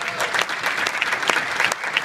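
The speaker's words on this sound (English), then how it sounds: "Everyone give them a round of applause for taking the trip out here." An audience claps for a speaker's visiting parents, a brief burst of dense, steady applause at moderate volume with no talk over it.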